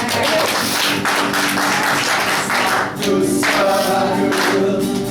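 Church congregation clapping hands in praise during a worship song, a steady dense patter of many hands close by with singing and music under it.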